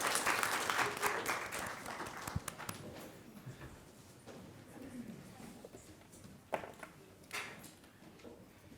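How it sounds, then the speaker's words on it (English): Applause from an audience at a board of education meeting after a JROTC color guard, a burst of clapping that starts strongly and fades to scattered claps, mixed with footsteps and shuffling. "A round of applause for the Southeast JROTC."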